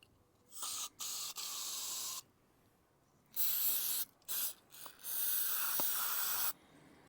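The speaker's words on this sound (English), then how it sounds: "just give everything a good spray with the carby cleaner as well" Carburetor cleaner hisses from an aerosol can onto the carburetor of a Mercury 40hp outboard in several close bursts, some short and some held for about a second, with quiet gaps between them.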